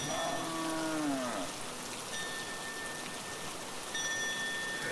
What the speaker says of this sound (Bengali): বাইরে ঝিরঝিরে বৃষ্টি।